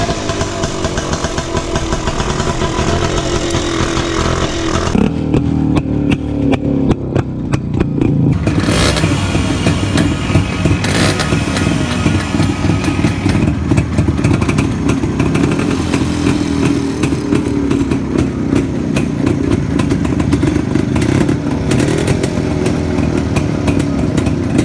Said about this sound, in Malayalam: നമുക്കിനി ഈ 2-സ്ട്രോക്ക് ബൈക്സിൻ്റെ റിയൽ ആയിട്ടുള്ള ആ ഒരു എൻജിൻ സൗണ്ടും അതൊക്കെ ഒന്ന് കേൾക്കാം